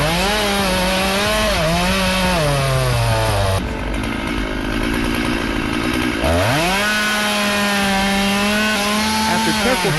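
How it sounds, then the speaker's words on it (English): A chainsaw engine roars loud and close as it cuts through a hardwood poplar tree, its pitch dipping under load mid-cut and then climbing back to a steady high whine. "The roar of the chainsaw engine rang out. The sharp saw blade cut through hardwood"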